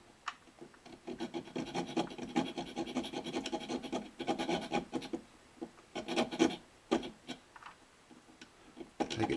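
A buffalo horn saddle for a cittern is rubbed with fine sandpaper, giving close, dry, rasping strokes in uneven bursts with short pauses between them and no talking.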